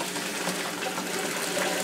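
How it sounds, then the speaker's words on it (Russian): Hot pasta water pours through a kitchen sieve in a steady, rushing gush, close and continuous, with no talk. "Я сливаю воду"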